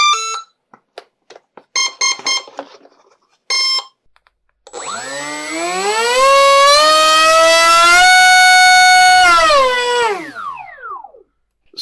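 Electric pusher motor and propeller on a foam board RC F-15 Eagle model running up on a test, a rising whine that climbs in pitch, holds loud and steady, then spins down, preceded by short beeping tones.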